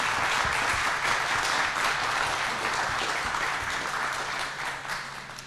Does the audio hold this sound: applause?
yes